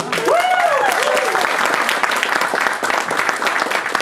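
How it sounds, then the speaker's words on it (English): Applause from the audience at a charity auction at a convention, a dense, steady wash of clapping that carries from start to finish, with a voice briefly heard over it at the beginning. "Come on, a round of applause."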